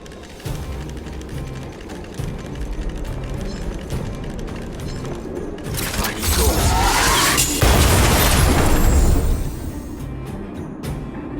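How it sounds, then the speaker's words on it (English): A video game explosion set off by an Automaton Spider lands as a loud, broad burst that swells and rolls out for a few seconds over a clanking mechanical backdrop. "trigger an explosion to disperse the disruptive workers"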